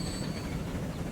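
A train rolls steadily along the line in the transport-simulation game Transport Fever, a low continuous rumble with a faint high whine above it, even and unbroken, moderately quiet and with no voices.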